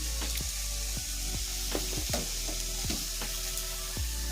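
Tamarind crackles and sizzles as it fries in oil for a dried fish sukha dish, a steady loud hiss broken by repeated sharp pops and spoon scrapes against the pan, with no talk.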